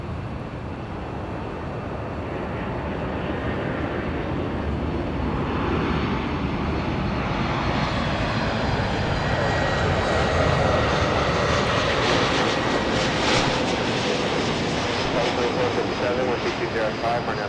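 A United airliner arriving from San Francisco at LAX makes a steady, broad roar that holds loud for the whole stretch, with a faint rising whine as it passes; tower radio chatter may sit under it.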